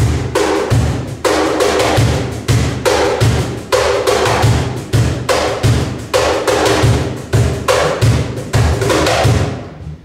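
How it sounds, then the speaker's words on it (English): A cajon plays a looping 7/8 groove grouped 3-2-2, with deep bass thumps and sharp slap accents repeating in a tight, loud, steady cycle. "We have a 7-8 rhythm, subdivided 3-2-2."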